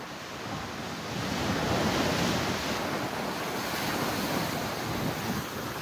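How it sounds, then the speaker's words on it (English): Big ocean waves crash and surge along the shore at Half Moon Bay, California, a loud, continuous roar of surf mixed with wind buffeting the microphone, swelling after the first second and staying heavy throughout. "Wow, big waves"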